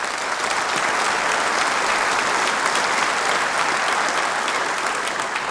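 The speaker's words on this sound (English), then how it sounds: "A round of applause for Hopkins." An audience at a technology conference keynote gives a sustained round of applause, many hands clapping in a dense, even roar with no pauses.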